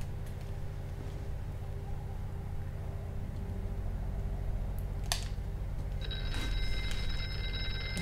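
A telephone rings in the PSVR paranormal survival horror game Here They Lie. A low rumble and hum sit underneath, a sharp click comes first, and then a bright electronic ring sounds near the end.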